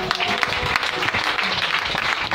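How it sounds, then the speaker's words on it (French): Church congregation applauding and cheering in praise, a dense, steady wash of clapping and voices filling the room without pause. "Acclamons Jésus pour ça."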